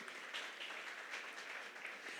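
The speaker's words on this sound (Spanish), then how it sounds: "Denles un aplauso, porfa" Quiet, distant clapping from a church congregation during a sermon, a brief soft patter of applause.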